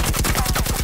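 Rapid automatic blind fire from a weapon in the squad-based shooter game Firewall Zero Hour, a fast burst of roughly ten evenly spaced close shots in under a second.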